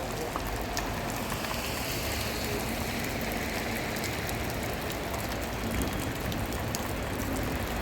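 Steady rain falls outdoors, a dense, even hiss of drops pattering on surfaces that holds constant throughout, close and fairly loud, with no voices.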